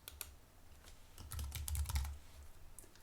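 A short run of close keyboard typing, soft quick taps in a brisk irregular rhythm, heard alone without speech over a faint low rumble.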